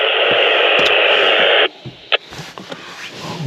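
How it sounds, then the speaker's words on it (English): A two-way radio at an event safety post gives a loud burst of hissy static for over a second, then drops to quieter background noise with a few faint clicks. "Hear the radio in the background."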